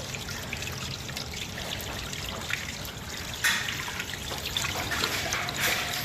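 Water pours and trickles steadily and continuously for buffaloes to drink, with a splash or two of louder flow partway through.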